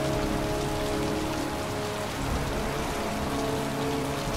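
Steady rain falls in the video game Heavy Rain, a dense, even patter of drops on surfaces that continues throughout at moderate volume with no voices.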